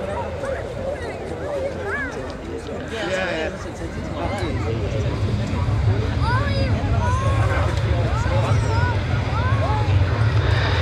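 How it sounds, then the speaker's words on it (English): Saab Viggen jet with a Volvo RM8 engine demonstrating reverse thrust at an air show, a distant roar that swells and rises under steady crowd chatter and an announcer's voice. "A demonstration of the reverse thrust capability on the Volvo RM8"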